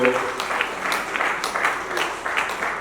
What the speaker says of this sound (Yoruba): Ẹ pàtẹ́wọ́ fún Jésù o.